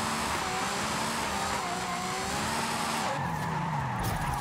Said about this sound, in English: I can slide this thing for days with the handbrake